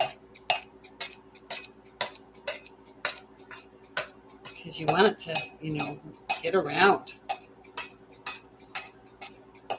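A knife chopping sweet potato and other ingredients for a Tunisian stew, a rapid run of sharp, close taps on a board with a brief clatter of utensils, while a person talks in the middle.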